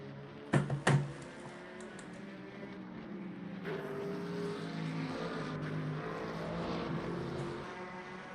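Race car engines from a sim racing stream of a Bahrain round drone steadily at moderate distance, a continuous engine hum after a couple of short knocks at the start, with no talk.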